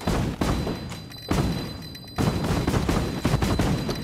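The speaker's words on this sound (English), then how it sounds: "Oh, the guns shoot fire." Rapid bursts of gunfire from fire-shooting guns in the LittleBigPlanet 3 video game, loud and dense with booming thuds in several clusters, no talk.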